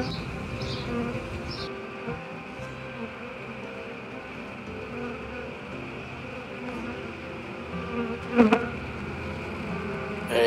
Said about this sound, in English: Sometimes it's just faster to get the bees to move off the comb sections with smoke